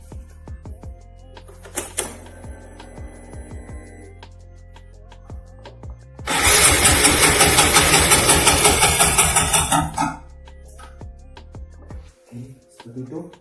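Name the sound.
engine starting and idling with old fuel injector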